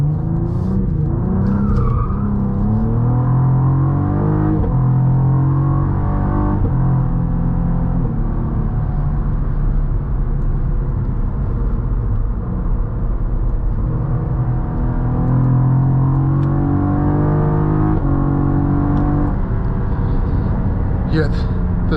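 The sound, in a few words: 2024 Cadillac CT4 V Blackwing accelerating onto highway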